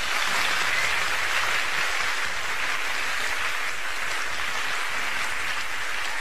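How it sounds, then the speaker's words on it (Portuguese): Studio audience applauding on a live Brazilian TV variety show, a steady, dense wash of clapping that holds throughout with no talk over it. "Clara, que tentou imitar a Paula Fernandes, pode aplaudir."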